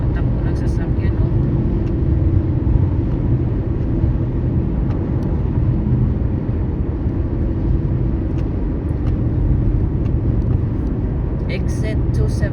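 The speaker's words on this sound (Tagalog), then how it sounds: "ang bilis ng matakbo ng sasakyan, oh" A car driving fast on the I-35 highway south toward Gardner, Kansas, heard from inside the cabin as a steady loud low road and engine rumble, with a person speaking over it.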